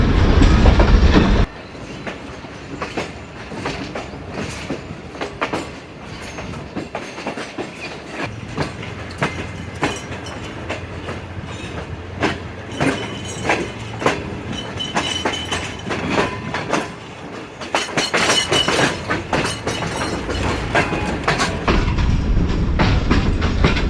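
The Mianwali Express passenger train rolls into Daud Khel Junction station in the rain, with rhythmic clacking wheels and a steady low rumble, growing louder and busier toward the end.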